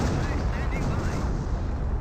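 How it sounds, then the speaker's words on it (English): Artillery creeping barrage in Company of Heroes, a dense, steady roar of shelling and rumbling blasts heard loud and continuous across the battlefield. "Ooh, that must be a creeping barrage."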